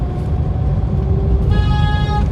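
Dense traffic near the Hawa Mahal gate in Jaipur, with a steady loud rumble of engines close by and a sustained car horn sounding toward the end.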